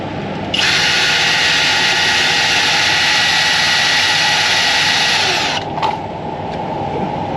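A loud, steady high-pitched whine from a power drill drilling out the rivets on a Freightliner Coronado truck's tail lights runs continuously for several seconds, then cuts off abruptly, leaving a lower background hum.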